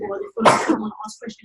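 One sharp sneeze bursts out between stretches of a person talking, close and loud, followed by more speech.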